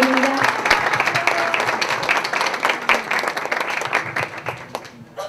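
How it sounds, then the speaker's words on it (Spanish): An audience applauds to welcome someone speaker at a talk. The clapping is dense and steady, holds for about five seconds, and thins out near the end. "Les pido que la recibamos con un aplauso a Marta Claudia Mosquera"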